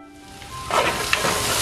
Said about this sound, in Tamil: கொஞ்சம் நேரம் வதங்க விடுவோம்.